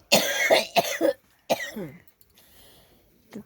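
A child coughs several times close by, in two quick bursts and then a rougher follow-up, before a quiet pause and a faint final sound.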